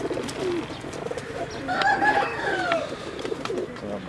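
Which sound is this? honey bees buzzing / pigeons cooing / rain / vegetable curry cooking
pigeons cooing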